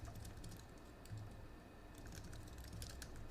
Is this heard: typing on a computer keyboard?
yes